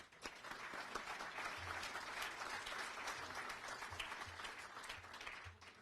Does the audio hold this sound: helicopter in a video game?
no